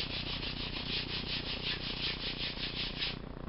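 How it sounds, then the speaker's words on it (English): Steady, close rasping of 60 grit sandpaper rubbed by hand over a wooden window frame, with even back-and-forth strokes for about three seconds and then easing off, and no talking. "I'm using a 60 grit paper, a little bit over the top, but I just don't push as hard"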